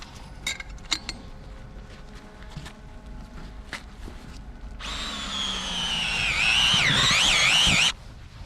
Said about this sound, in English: What we're gonna do is drill a hole